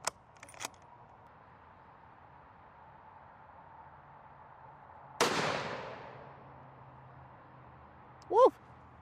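A single sharp shot from a .270 WSM rifle outdoors cracks loudly and then rolls away in a fading echo, with a few faint clicks before it and a short voice exclamation after.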